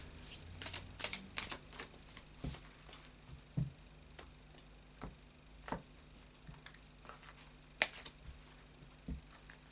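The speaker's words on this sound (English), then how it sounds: "then I'll do another shuffle" Tarot cards being shuffled in soft riffling bursts and scattered taps, with quiet pauses between handfuls, no voices.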